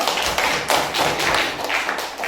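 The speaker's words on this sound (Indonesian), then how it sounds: "tepuk tangan untuk kelompok 1." Students in a classroom applaud a presentation group, a short burst of brisk, uneven clapping in quick pulses, close and fairly loud.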